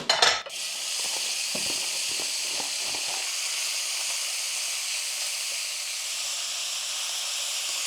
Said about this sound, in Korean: 자, 이제 고기 볶을 겁니다